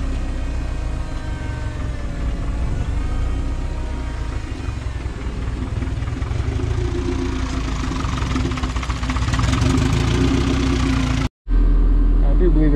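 A Honda Del Sol with a turbocharged D16Z6 engine, running a little rich, idles steadily and close with a rough, uneven hum that rises slightly near the end, then cuts off briefly before resuming.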